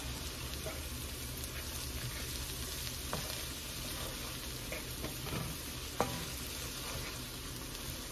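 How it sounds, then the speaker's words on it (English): Food sautés in butter in a pan before going into the oven, giving a continuous, even sizzle with an occasional faint utensil tap and no talking. "So we're going to saute these a little bit."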